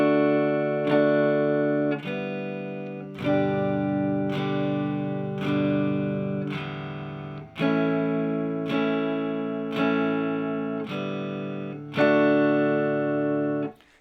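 Guitar chords strummed in a slow, even beat, with open strings strummed on beat four between chord changes, close and ringing with no voice over it.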